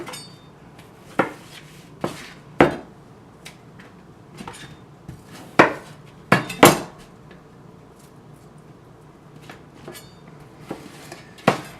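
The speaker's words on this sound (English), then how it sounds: "cut it in half to where you've got a half of the onion, and then just break it apart into the pieces" Onion pieces being broken apart by hand on a kitchen counter while making fajitas, giving a string of sharp, close snaps and clicks at irregular intervals over a quiet room background, with no talking.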